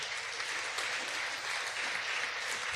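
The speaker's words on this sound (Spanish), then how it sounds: "¿Cuántos le pueden dar un fuerte aplauso al Señor?" A church congregation at a Spanish-language sermon gives a strong, continuous round of applause, a dense wash of many hands clapping that holds steady throughout.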